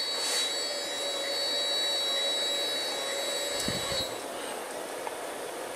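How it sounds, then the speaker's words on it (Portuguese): A small DC motor driven by a Monster Motor shield VNH2SP30 gives a steady high whirring hum at moderate level that runs through the whole stretch, with a couple of faint knocks near the end. "Agora nós vamos ativar o motor. Vamos ativar o motor."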